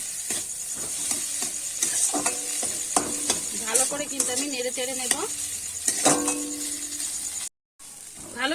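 Mashed boiled potato being stirred in a hot pan, with steady close sizzling and frying hiss under repeated scraping stirs of a spoon against the pan, briefly cutting out near the end.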